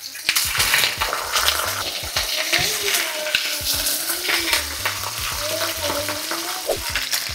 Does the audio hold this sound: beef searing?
yes